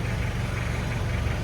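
A Toyota Qualis engine, just back from engine work, idles with a close, steady low rumble and a slight knocking texture throughout, with no voices.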